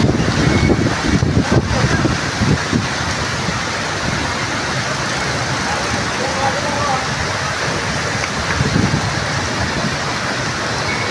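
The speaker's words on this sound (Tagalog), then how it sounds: "Ayan, napakalakas ng ulan. Grabe, tripling lakas, parang bagyo." Heavy evening rain pours down in a sudden downpour, a steady loud wash of noise with gusty bursts, while a voice speaks now and then over it.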